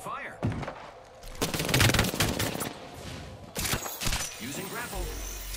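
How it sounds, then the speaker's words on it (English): Video game gunfire in a fast-paced shooter: bursts of shots and thuds rattle close and loud, mixed with other game effects and voice chatter as the player takes fire while out of ammo. "I am taking fire."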